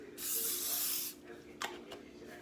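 A can of cooking oil spray hisses onto a pan in one steady burst of about a second, close and fairly loud, followed by light clatter and faint handling sounds.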